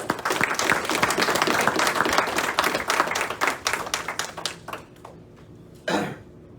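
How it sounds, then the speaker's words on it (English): Masonic lodge members at an officer installation give a round of applause for the worshipful master, a dense burst of clapping that thins into scattered claps, followed by a cough near the end. "Give him a round of applause, guys."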